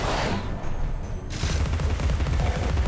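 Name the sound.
bomb exploding in video game Alice: Madness Returns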